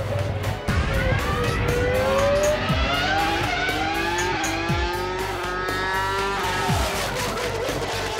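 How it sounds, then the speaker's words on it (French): A Ferrari Formula One car laps the Fiorano test circuit at full power, its high-pitched engine screaming loud and close through rising and falling revs, with sharp gear changes and repeated upshift sweeps. "les voitures solliciteront l'asphalte de Fiorano jusqu'au dernier moment"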